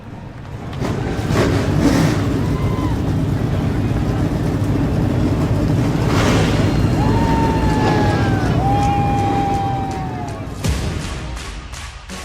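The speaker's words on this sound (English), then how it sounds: "Drivers, start your engines." Race car engines fire up in the iRacing sim for an eNASCAR Coca-Cola Series race at Talladega, a loud, dense, sustained roar with rising whines over it that tapers off near the end.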